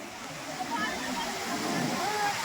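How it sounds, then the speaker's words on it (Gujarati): Rough sea waves at Madhavpur beach on the Gujarat coast make a continuous, fairly close roar and wash, with voices talking over it. "દરિયો હંમેશા તોફાને હોય છે"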